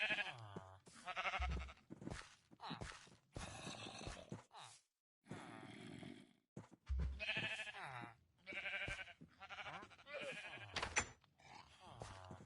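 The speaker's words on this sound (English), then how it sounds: "if you name a sheep Jeb underscore, he'll turn into a rainbow sheep" Sheep in the Minecraft video game bleat in several short bursts throughout, with a person talking over most of the game sounds.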